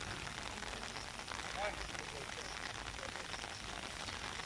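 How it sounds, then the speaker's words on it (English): Steady rain pouring down outdoors onto a muddy field, a continuous soft hiss of drops without pause, fairly faint and even throughout. "Nice continuous downpour of rain."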